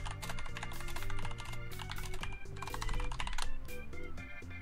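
Rapid typing on a computer keyboard, a dense stream of close clicking keystrokes over quiet background game music, with no talking.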